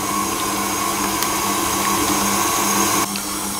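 An electric hand mixer whirs steadily at close range as it beats butter, sugar and milk for golden syrup cupcakes, then the motor drops in pitch just before the end.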